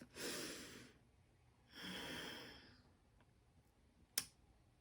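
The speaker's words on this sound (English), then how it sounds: "I'm just going to take a deep breath" A deep breath drawn in and then let out, two broad airy swells close to the mic, followed by a small sharp click at the end.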